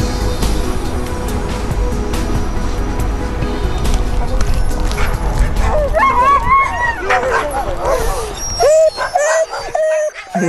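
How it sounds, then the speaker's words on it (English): Sled huskies in harness bark, yip and whine excitedly before setting off across Arctic snow, a dense chorus of many dogs growing to high-pitched yelps and whimpers nearby, with voices talking over them. "The huskies are in harness and know they're about to leap off into the frozen wastes with a sledge in tow."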